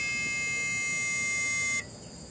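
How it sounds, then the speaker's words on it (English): A crashed hard disk drive with failed read/write heads gives off a steady high-pitched whine that holds for nearly two seconds, then cuts off abruptly, leaving only faint hiss. "Now it's just whining."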